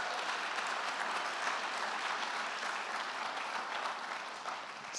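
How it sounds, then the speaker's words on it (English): A large conference audience at a keynote gives itself a round of applause, a broad, continuous wash of many hands clapping that holds steady and eases off slightly at the end. "Give yourselves a huge round of applause."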